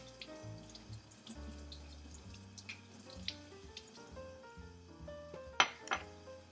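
A trumpet mouthpiece is rinsed under a running sink tap, with water splashing and trickling close by, small metallic clinks and knocks against the basin, and a sharper clatter near the end, no talking.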